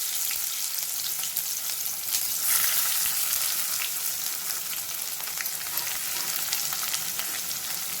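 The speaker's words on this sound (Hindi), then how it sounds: "तापरे कटा पियाज पकांतु" Chopped onion sizzling in hot oil with cumin and bay leaf for a mushroom curry, a continuous bright crackling fry with light stirring, close and steady throughout, no speech.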